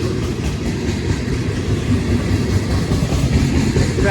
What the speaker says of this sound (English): This train is all gondolas that are empty.